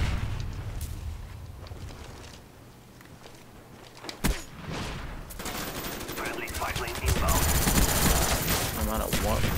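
Gunfire in Call of Duty Black Ops on the Nuketown map in Domination mode, sporadic shots and loud sustained automatic bursts that grow denser toward the end, with game noise and a voice talking over it.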